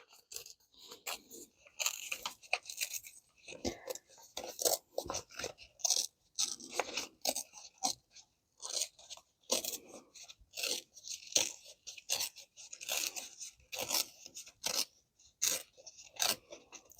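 Paper torn by hand around a steampunk-style artwork piece for a bullet journal cover, a long run of short crisp rips and crunches in an uneven rhythm, close and fairly quiet with no talking.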